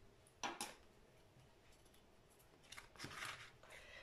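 Scissors cutting through paper while making a cuff bracelet, two short crisp snipping bursts near the start and a longer rustling cut toward the end, close and fairly quiet with no talk.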